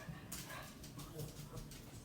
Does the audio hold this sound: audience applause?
no